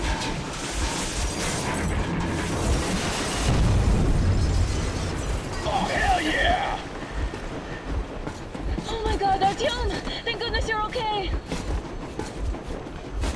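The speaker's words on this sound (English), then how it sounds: "Managed to blow up the train." A train blown up in the video game Metro Exodus: a deep, loud explosive boom swells and rumbles for a few seconds amid a busy game soundscape, with talking running through the rest.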